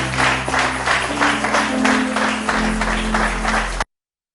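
A church congregation applauds and cheers for the preacher in a steady wave of clapping that holds evenly for several seconds, then cuts off abruptly.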